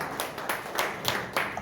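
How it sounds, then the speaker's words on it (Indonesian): A church congregation claps in a steady rhythm, about six even beats, moderately close with no voices over it. "Tepuk tangan bagi Allah kita."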